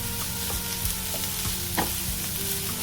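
Chopped ginger and green chili sizzle and fry in a hot pan, a loud continuous crackle broken by a few stirring scrapes, close up with no talking.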